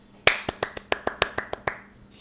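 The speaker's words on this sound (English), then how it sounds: "Beautiful golf clap." Eight light, crisp golf claps tap out at an unhurried, even pace, close and dry, the last one ringing slightly longer before fading.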